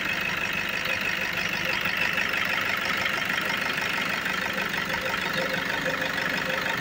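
A 2011 Toyota Hilux diesel engine idles steadily, a continuous mid-to-low engine drone with a faint rattle that holds even throughout, with no talking over it.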